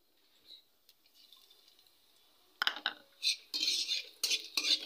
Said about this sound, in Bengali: চিলি ফ্লেক্স আর রসুন কুচি দিয়ে ভালোভাবে তেলের মধ্যে একটু নাড়াচাড়া করে